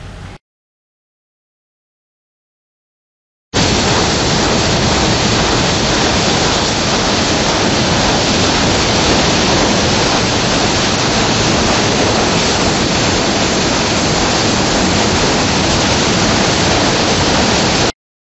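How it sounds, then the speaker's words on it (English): Touch-free automatic car wash sprays water in a loud, steady, hissing rush. It begins abruptly after a few seconds of silence and continues unbroken, with no talk. "you're about to experience the touch-free automatic wash and dry process"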